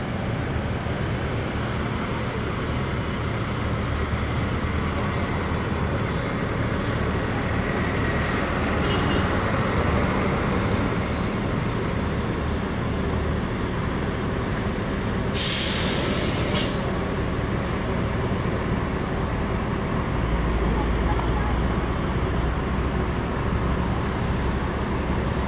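A Lorena bus on a Mercedes-Benz chassis rolls into the Tanjung Priok terminal in North Jakarta. A steady, loud engine and road rumble runs throughout, with a short hiss of air brakes partway through.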